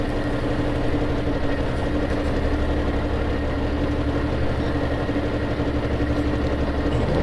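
A heavy train engine in the video game Stormworks drones steadily at a constant pitch, a low continuous rumble with no voices.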